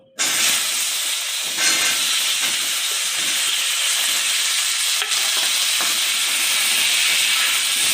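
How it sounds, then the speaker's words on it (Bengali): Cut potato pieces fry in hot oil for a fish and potato curry, producing a loud, continuous sizzle that starts abruptly and holds steady without talk. "আলু কটা একটু ভেজে নিই।"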